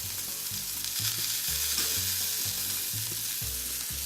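Lamb loins sear in a hot pan with a steady, loud sizzle and crackle, plus rhythmic scraping and stirring knocks throughout, with no talking.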